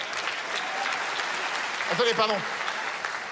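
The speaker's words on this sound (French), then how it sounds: "Là, vous venez d'applaudir une multiplication." A live audience at a comedy festival in Liège applauds with a steady wash of clapping throughout, while someone speaks briefly over it.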